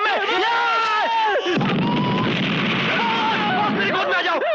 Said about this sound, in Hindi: ये फटने वाला है, ये बम है।